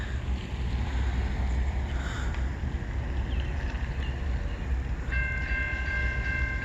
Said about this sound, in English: But here's the second train.